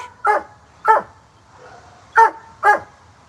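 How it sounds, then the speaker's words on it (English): A dog barks four times in two uneven pairs, sharp and fairly close, with quiet pauses between. "Why is he barking so much?"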